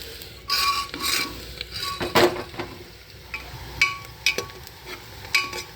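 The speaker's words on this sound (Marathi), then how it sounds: "आता कांदा तळलाय, आता यात हळद टाकायची. चांगला तळाय कांदा." Onion frying in a pan for a mutton dish, stirred with a metal utensil that clinks and scrapes against the pan in irregular bursts over a low background sizzle, close and moderately loud, with no talking.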